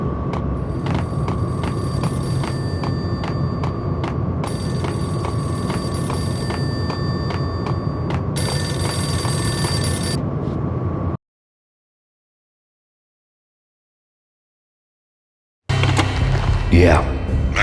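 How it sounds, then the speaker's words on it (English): A payphone rings in the Max Payne video game with repeated loud electronic bell bursts over a constant low ambient hum, then drops to silence before game sound returns with a voice. "A payphone started to ring."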